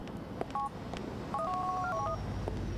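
Touch-tone dialing from a phone in Grand Theft Auto IV: a short pair of beeps, then a quick run of about five keypad tones, heard clearly over a low background hum.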